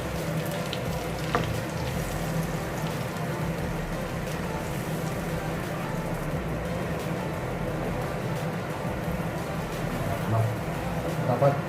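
Garlic, ginger and onion sauté in butter over medium heat. The pan sizzles and crackles steadily at low volume, with a few stirring taps near the end.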